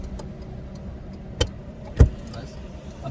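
A car pulling away as the clutch is slowly released during a driving lesson, heard as a steady low engine rumble from inside the cabin, broken by two brief dull knocks.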